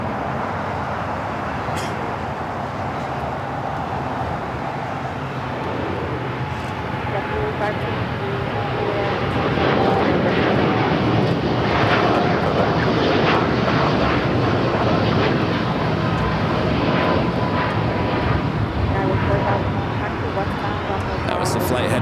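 Jet airliner on a flight to Tokyo Haneda taking off from LAX, a broad, steady engine roar that swells midway and holds loud to the end, with talk audible underneath.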